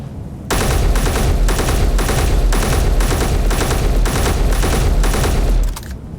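A Gatling turret firing in the game Space Engineers, a loud, steady, rapid stream of gunfire that starts abruptly, holds for about five seconds and stops sharply, with no talking.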